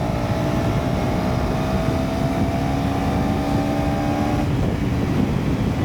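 A KTM Duke 390 with a 350cc engine runs at high speed, a steady engine drone mixed with heavy wind rush and a sustained tone that shifts near the end, with no talk.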